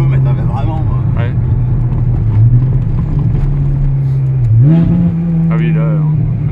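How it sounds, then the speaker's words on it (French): Ferrari 360 engine with F1 gearbox gives a short throttle blip, a brief rising rev over a steady idle hum, close up with voices talking over it. "Ah oui, là, on a bien entendu le petit coup de gaz."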